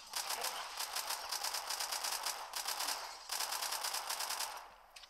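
Automatic gunfire rattles in The Walking Zombie 2, a zombie shooter game, in three sustained rapid bursts separated by short gaps. The shots are loud and close.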